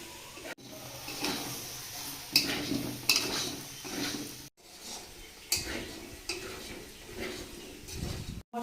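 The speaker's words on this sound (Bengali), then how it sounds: "মশলার মধ্যে সবজিগুলো খুব ভালো করে কষিয়ে নিয়েছি" Mixed vegetables are sautéed with spices in a pan for a prawn curry, with repeated close scraping and stirring strokes over a low sizzle and brief clatters of the spoon against the pan.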